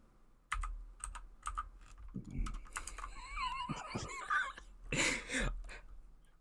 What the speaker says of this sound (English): I'm sorry about the clicking, everyone. I'll sort out a silent keyboard next time